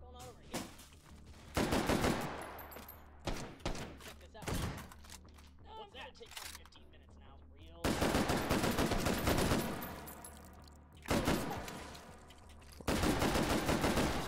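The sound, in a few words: gunfire from semi-automatic guns in video game H3VR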